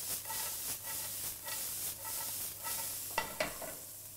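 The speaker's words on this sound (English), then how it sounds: "So we can just add the onion to the pan. We just want to, you know, just saute that." Onion sautés in a pan, giving a quiet sizzle and hiss broken by rhythmic scraping strokes of stirring about twice a second, ending with a couple of sharper knocks.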